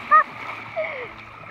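A short splash as someone drops into Wright's Lake at dusk near Northwind Campground, California. It is one quick burst near the start, followed by a softer watery sound, with voices talking over it.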